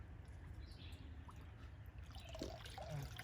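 Creek insect larvae and nymphs being rinsed in water outdoors, with a steady faint trickle and gentle sloshing throughout, a few soft drips near the end.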